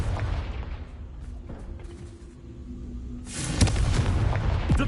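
Fire-spell explosion from the Hogwarts Legacy video game, a loud booming blast with dense low rumble that swells sharply near the end amid crackling bursts.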